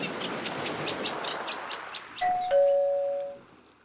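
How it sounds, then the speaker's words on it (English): A two-tone ding-dong doorbell chimes once after some faint rhythmic background sounds, the second tone ringing out and fading slowly. "That's a doorbell."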